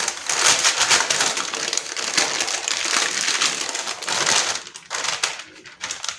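Close, crisp crinkling and rustling of parchment paper being handled, continuous for several seconds before easing off into quieter crackles.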